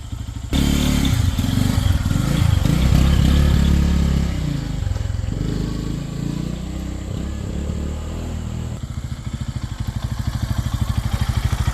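A Lifan KPX 250 motorcycle with a 249cc EFI overhead-cam single and six-speed gearbox runs on a test ride, loud and close. The engine drones and rises through revs, then settles into a rhythmic, pulsing idle-like thrum near the end.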